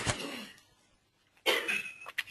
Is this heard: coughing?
yes